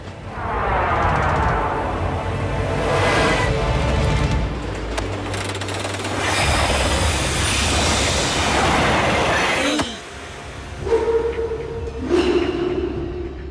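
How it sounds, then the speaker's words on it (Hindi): An animated train running out of control in a tunnel: loud rattling wheels, clanking cars and rushing rumble build and swell, then give way to screeching metallic squeals and a few sharp clanks as it slows. "ये ट्रेन कंट्रोल में नहीं है और ये ट्रैक भी चेंज नहीं हो रहा"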